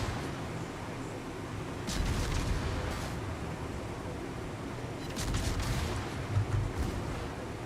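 Naval gunfire in World of Warships, with distant rumbling booms from ship batteries in two main bursts over a low continuous battle background, no talk.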